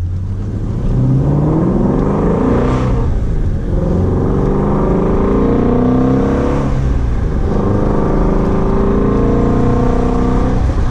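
A 2018 Ford Shelby GT350 pony car's engine builds steadily under acceleration while driving, a loud continuous roar with rising and falling harmonics through gear changes and no talking.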